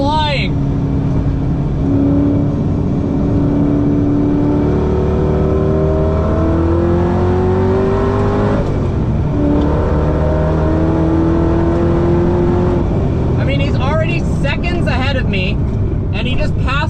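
A very fast rally car on a race track screams past with a loud engine note that climbs through the gears, dips, then rises again, staying close and dominant throughout.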